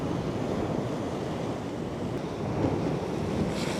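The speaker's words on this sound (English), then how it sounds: "A few sets of waves every now and again will sort of come crashing through." Sea waves crash and wash against a rocky shoreline on the Bristol Channel, a steady loud roar of surf mixed with wind buffeting the microphone, no voices.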